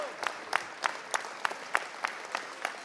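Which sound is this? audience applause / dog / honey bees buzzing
audience applause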